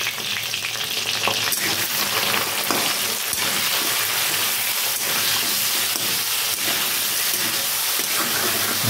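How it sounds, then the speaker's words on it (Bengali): Crab pieces seasoned with turmeric and salt frying in a pan, giving a loud, steady sizzle and hiss close up, with faint stirring scrapes and no talking. "কাঁকড়াটা দিয়ে ভালো করে ভেজে নেব।"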